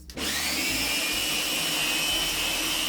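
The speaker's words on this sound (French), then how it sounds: "et je vais mixer" A blender whirs loudly and steadily while mixing an eggnog drink, a constant motor whine that starts abruptly and runs without pause, with no voices.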